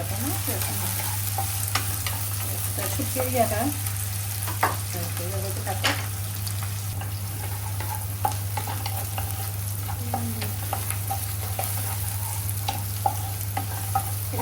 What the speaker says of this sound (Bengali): একদম বাদামি বাদামি করে একটু ভাইজে নিতে হবে